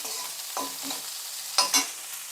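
Urad dal being sautéed in a pan for mint and coriander chutney: a faint steady sizzle broken by two or three quick scraping stirs of a spatula, close by and without talk.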